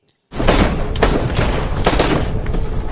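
Dense volley of gunfire from a film scene where a former elite soldier shoots several police officers; loud, continuous rapid shots after a brief silence, with sharp cracks layered over a rumbling wash.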